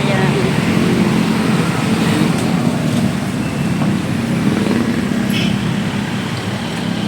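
Steady roadway traffic from cars, buses and trucks near a market and jeepney terminal in the Philippines, a loud continuous wash of engine and tire noise with no pauses, heard while walking along the street.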